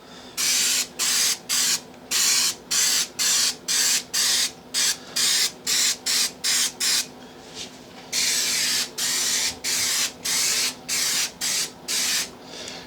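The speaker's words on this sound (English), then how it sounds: "you need to spray both pieces. And I tend to do the fabric first" Short hissing bursts of spray adhesive being applied to fabric and wood pieces for a jewelry box conversion, about twenty even pulses with brief gaps between them, loud and close.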